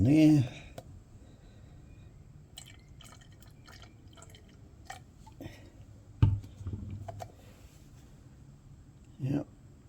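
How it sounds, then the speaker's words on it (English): Water poured into petrol sitting in a container gives scattered splashes and drips in short bursts, with a louder splash midway and small handling knocks in a quiet room. "I will pour some water in there."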